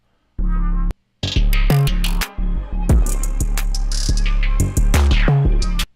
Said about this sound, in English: that hi-hat is like really loud